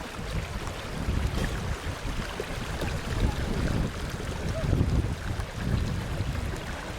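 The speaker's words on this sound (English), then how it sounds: "Washing in the river." River water in Damanapalli, India, where women wash clothes, rushes steadily with gusty, wind-buffeted noise and faint splashing, no voices.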